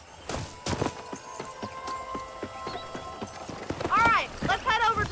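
Steady, rhythmic hoofbeats of a horse in the western game Red Dead Redemption, clip-clopping at a walk, with voices speaking over them near the end.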